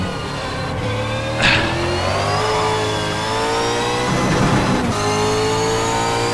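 A V8 supercar engine in a sim racing game revs hard and steadily with strong harmonic tones. Brief dips in the sound mark gear shifts, and there is no talking.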